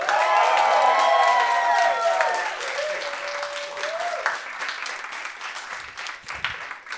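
An open mic crowd breaks into loud applause for the audio technician, steady clapping with some cheering that eases slightly after a couple of seconds and carries on beneath a sustained tone.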